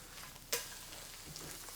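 A flipped egg fries in a pan, a steady close sizzle broken by one sharp sputter, then a brief softer pop as the hiss continues, no voices.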